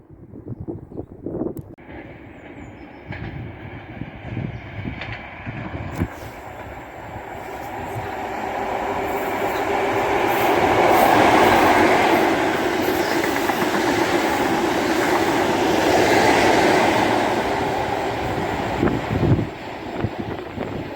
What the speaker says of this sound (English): Fast train approaching. Now passing through is a ScotRail HST service.